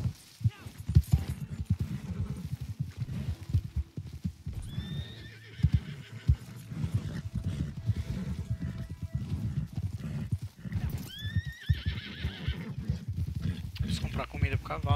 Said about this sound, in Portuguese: Aperta o G pra acalmar o cavalo, o Tofu, quando ele faz isso